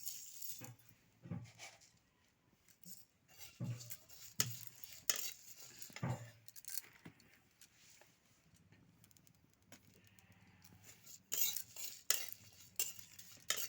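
Dry chili and cumin are roasted in a pan without oil for a tomato khatta, with a spoon scraping and stirring in irregular bursts, close and quiet with brief pauses.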